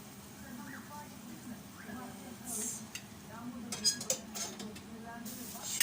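A spoon stirs a pot of meat and dried bean stew, giving soft, scattered clinks and scrapes against the pot at low volume, with a person talking quietly nearby.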